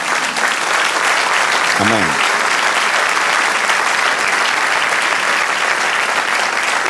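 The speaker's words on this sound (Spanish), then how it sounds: "Denle un aplauso fuerte al Señor." Church congregation breaks into loud, sustained applause filling the room, with a brief voice calling out partway through.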